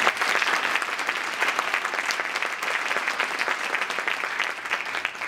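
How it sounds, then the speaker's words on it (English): Steady, dense applause from a large audience, sustained and even throughout with no voices rising above it. "Once again, can we get another round of applause?"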